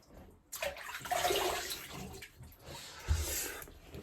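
Cold water runs from a bathroom tap after a double edge razor shave, a steady broadband splashing gush that swells after a quiet start and continues with a brief thud partway through.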